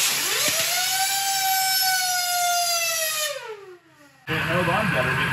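A skateboard wheel spun at very high RPM gives a piercing, rising-then-falling whine like a dental drill, loud and close, winding down before a burst of noisy clatter at the end.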